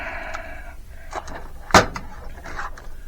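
A stuck kitchen drawer is pushed shut with a single sharp thud midway, preceded by rubbing and scraping, in a close, quiet room.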